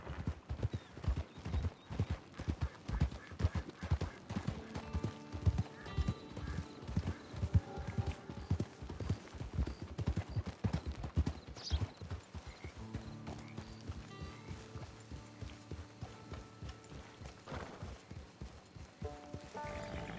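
Horse hooves clip-clopping at a steady walking rhythm, a long run of crisp, regular hoof strikes that grows denser and slightly fainter later, with a brief whinny partway through.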